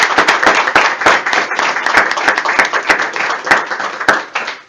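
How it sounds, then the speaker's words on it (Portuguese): A church congregation claps together in sustained, brisk applause, sharp hand claps piling up loud and close with a few scattered voices underneath. "Palmas para Jesus."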